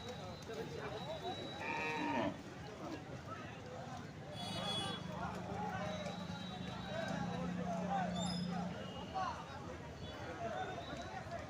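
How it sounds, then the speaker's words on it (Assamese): Cattle at a muddy livestock market in Assam, with one long, low moo drawn out through the middle amid constant crowd murmur and market bustle. "এইবিলাক গৰু চাওক, ইমান ধুনীয়া ধুনীয়া চাইজৰ গৰু।"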